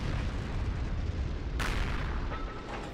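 A tank cannon fires in the World War II game Heroes and Generals, heard from inside an M3 Lee. One sharp, loud boom cuts through a constant low engine rumble.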